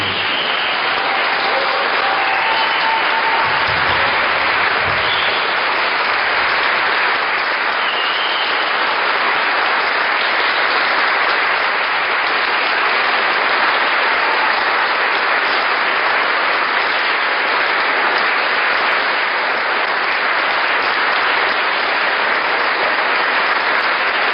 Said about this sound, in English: give a really strong round of applause to these workers who come